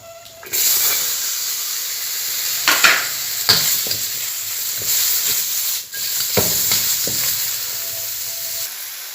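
Sweet and sour stir-fry ingredients sizzle loudly in a hot pan with minced Chinese garlic, a steady close hiss broken by repeated scraping and stirring strokes over about nine seconds.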